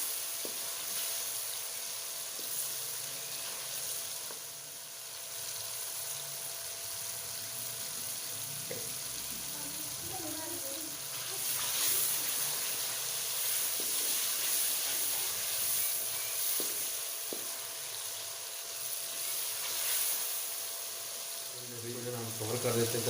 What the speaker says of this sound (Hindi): 1 से 2 मिनट जो है इसको भून लेते हैं।